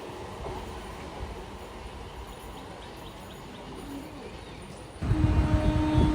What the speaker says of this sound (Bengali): এবার ঝড়ের বেগে ছুটে আসছে Katwa Howrah galloping EMU local train